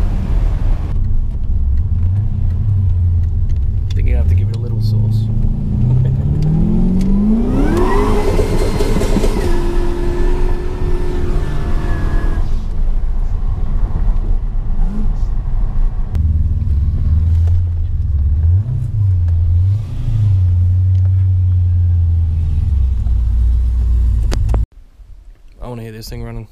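Methanol-fueled engine with turbos and a blower running loud and close, a steady deep rumble with a sharp rev climbing high and falling back, then more idling and smaller blips before cutting off.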